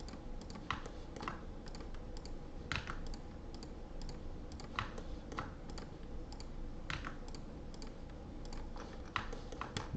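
Rapid keyboard typing mixed with sharp mouse clicks, close and fairly quiet, in an irregular run of taps and clusters during 3D modeling work, with no voices.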